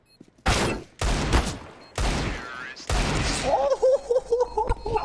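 Counter-Strike rifle fire in a match, four loud sharp bursts of shots spaced about a second apart, under excited voices of players and commentators.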